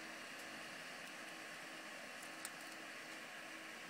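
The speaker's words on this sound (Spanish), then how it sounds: "Y este es un pequeño ventilador que puse dentro de la máquina para que saque todo el exceso de aire caliente" A small cooling fan mounted inside a homemade infrared BGA rework station blows steadily, a faint, even whir with no talk and only a tiny click partway through.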